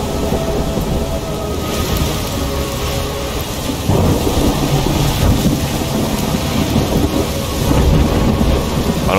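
Thunderstorm in the video game Ori and the Will of the Wisps: dense, loud rain and a rolling roar of thunder swelling in several waves, without any speech.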